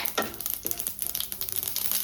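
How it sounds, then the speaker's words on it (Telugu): Mustard and cumin tempering seeds crackle and sizzle in hot oil in a pan, a cabbage curry just beginning; a steady close-up frying hiss with small pops scattered throughout, and no talking. "ఆయిల్ బాగా హీట్ ఎక్కనిద్దాం. ఇప్పుడు తాలింపు గింజలు వేద్దాం."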